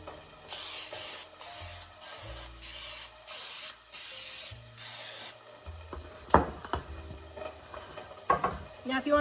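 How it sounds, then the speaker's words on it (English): Cooking spray hisses into a muffin tin in about six short, even bursts, close and loud. Clattering and handling noises follow as the tin is moved. "next thing I'm doing is spraying my muffin tin."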